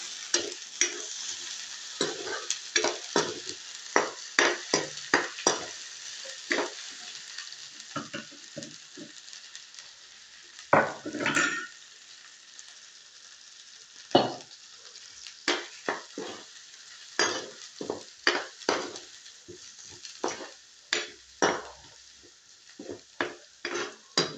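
Mung bean dal with egg bhuna sizzling in a pan while being stirred, with repeated scraping strokes in uneven bursts over a steady frying hiss, close and fairly loud.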